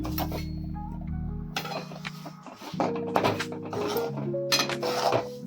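Sesame seeds are stirred into a browned mixture in a pan, producing scraping and clinking utensil strokes against the pan over a steady low hum, the stirring growing busier partway through.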